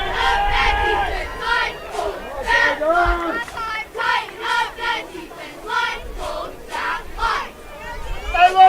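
Football crowd at a varsity high school championship final, LCA Chargers against Northern Virginia Centurions, roaring and yelling in sustained waves of massed voices with rising cheers near the end.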